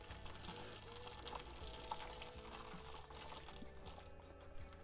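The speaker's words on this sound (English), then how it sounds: "Once I pour this hot water in, I'm going to pop the lid on." Hot water pours steadily into a pot in an unbroken rushing, splashing stream, close and moderately loud, running without a pause and with no voice over it.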